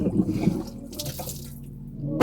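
Water running and splashing in a home garden, a close, uneven trickling and gushing that fades slightly midway and swells again at the end, with no talking.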